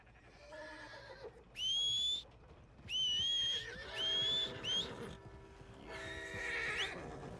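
Several loud, high horse whinnies in quick succession, each shrill and wavering, with softer snorting and hoof sounds between them, from the video game Red Dead Redemption II.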